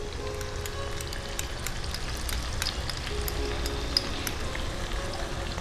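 Onion paste frying in oil with potatoes gives a soft, steady sizzle with faint crackles and an occasional small pop, heard close and without speech.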